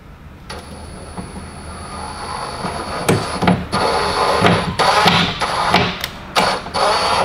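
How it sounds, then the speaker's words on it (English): A power driver sinks self-tapping screws into the window regulator of a 2003–2011 Hyundai Getz TB hatchback, with whirring drive bursts and gritty, high metallic squeals in short stop-start runs that grow more frequent toward the end. "it's now time to put our little self-tapping screws in"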